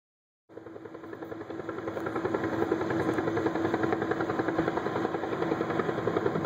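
A Northrop Grumman LEMV military airship in test flight gives off a steady, throbbing engine drone with a rhythmic beat that fades in and grows to a constant, fairly close hum.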